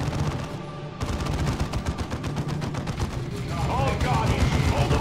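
Dense battlefield gunfire in Dawn of War 2, rapid continuous shots and bursts layered over one another at steady high intensity, with game voices calling out beneath the fire.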